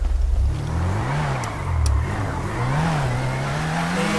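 A car engine drones and revs as the vehicle drives in a FiveM GTA roleplay game, the pitch rising and dipping with throttle changes, steady and fairly close with no talking.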